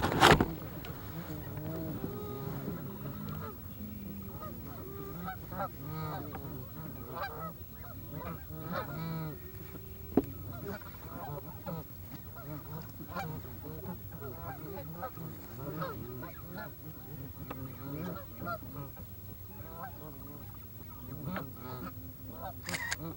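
A flock of geese honks continuously from a moderate distance, overlapping calls filling the air with a busy, steady chatter.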